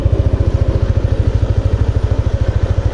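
A motorcycle engine runs close by with a steady, rapid low putter, its even pulsing beat continuing throughout without speech.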